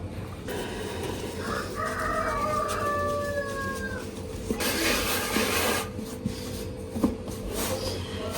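A chicken near a container outdoors gives a drawn-out crowing call in the middle, with scratchy rubbing and shuffling noises around it and a steady hum of background noise. No one speaks.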